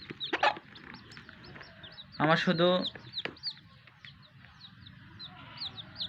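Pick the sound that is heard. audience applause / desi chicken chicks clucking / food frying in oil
desi chicken chicks clucking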